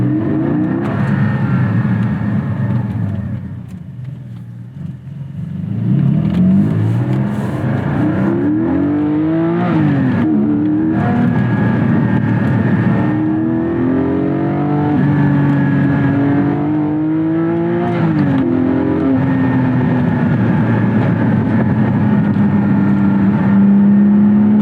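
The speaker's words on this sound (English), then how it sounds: "We're gonna put on sport exhaust." Porsche Spyder flat-six with sport exhaust engaged, revving and accelerating on the road, a loud steady engine drone that swells and climbs through gears with shifting pitch, dipping briefly near the start, with no talk over it.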